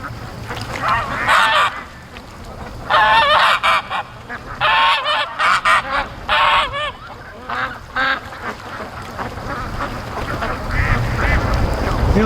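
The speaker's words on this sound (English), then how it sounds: "I don't know how the sound's turning out with them quacking and the geese" Geese honk repeatedly on a lake at a morning rush of domestic ducks, loud nasal calls in irregular bursts over a steady background of water and quacking.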